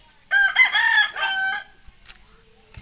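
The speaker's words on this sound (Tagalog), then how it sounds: "Ang daming manok dito, guys." A rooster crows once, loud and close, on a Philippine rural farm among many chickens, followed by quieter clucks and scattered faint sounds.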